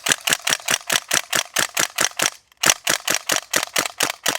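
A North East STEN airsoft gas gun fires BBs in a rapid string of sharp, evenly spaced cracks, close and loud, with a short gap partway through before the shots resume.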